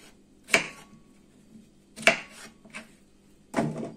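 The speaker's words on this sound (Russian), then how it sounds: "Нарезаем вот такими пропорционными кубиками" A knife chopping pumpkin into cubes on a board in a home kitchen, three distinct sharp cuts spaced a second or more apart, fairly close and quiet.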